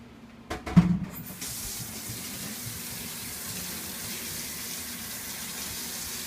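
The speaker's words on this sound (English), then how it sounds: "So just go with some normal tap water." Tap water runs into a hookah base. A brief clunk comes first, then a steady, close hiss of flowing water continues to the end.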